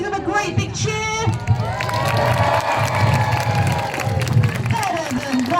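Audience at a seal show at West Midlands Safari Park cheers and shouts loudly, children's voices prominent, a sustained burst of crowd noise with some clapping throughout.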